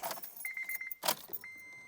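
A Honda Civic Si, eighth generation, is switched on: keys jingle and the ignition chimes in short repeated electronic beeps, with a brief click and rustle between, heard close up inside the car.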